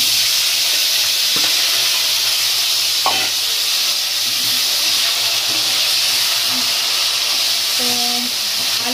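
Potatoes fry in a pan for Bengali chorchori, giving a continuous loud sizzle and hiss, broken by a few clinks from a utensil or spoon against the pan.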